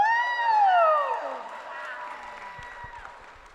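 An awards ceremony audience cheers and claps, opening with a loud rising-and-falling whoop from one voice, then scattered clapping and cheering that fades away.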